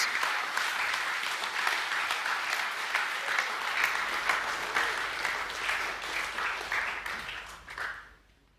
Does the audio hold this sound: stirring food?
no